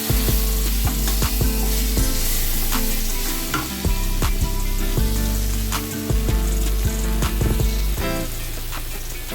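Chicken pasta in creamy white sauce is stirred vigorously in a pan, the spoon scraping and knocking in an irregular rhythm over a continuous close, loud sizzle.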